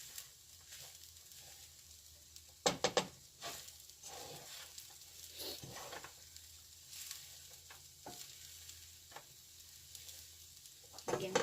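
Beef fried rice with lots of garlic being stirred in a pan, a soft steady sizzle broken by a few scraping stir strokes, close and alone with no talking.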